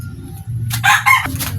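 A rooster, a Lemon 84 cross kept in a backyard, gives one loud, close crow in two strong bursts over a low background hum.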